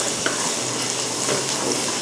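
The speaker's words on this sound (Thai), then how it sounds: "ผัดให้กระเทียมพอหอมนะคะ" Garlic stir-frying in soybean oil in a hot pan gives a steady, loud sizzle with faint stirring scrapes throughout.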